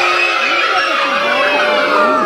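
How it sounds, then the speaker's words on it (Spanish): Boys in an outdoor neighborhood movie-screening audience shout together, a sustained, loud, overlapping chorus of young voices that rises and falls throughout without a break. "Ahora el grito de los niños."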